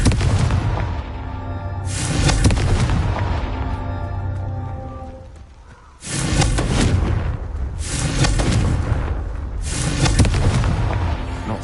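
Confringo spell blasts in Hogwarts Legacy, a series of loud, booming explosions with rumbling tails, one heavy burst after another with a short lull midway, no talking.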